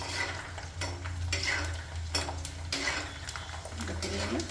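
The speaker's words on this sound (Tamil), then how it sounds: "இந்த பிரியாணி பூண்டு நல்லா வதங்குது" Garlic sautés in hot oil in a pan for tomato pickle, a steady frying hiss with several loud scraping bursts from a spoon stirring against metal.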